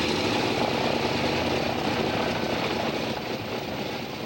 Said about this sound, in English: And there's nothing that sounds like a radial engine.